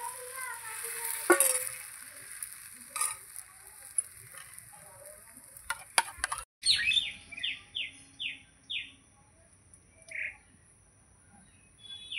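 Mango patishapta batter cooking in a karahi, with a soft frying sizzle under scattered ladle scrapes, bird chirps and a few tweets heard nearby.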